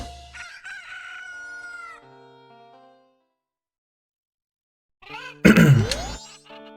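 A rooster crows in the video game Majora's Mask, a clear digital cock-a-doodle-doo near the end that follows earlier game tones and a pause, loud and close with no talk.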